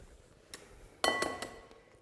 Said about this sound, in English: crack the eggs into a separate bowl